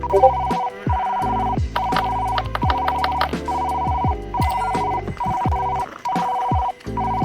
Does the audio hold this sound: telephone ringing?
yes